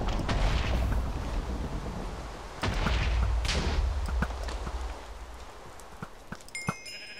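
Sheep bleat in the Minecraft Sheep Wars minigame amid loud explosive blasts and rumbling impacts, the bleats mixed among bursts of game action at close range.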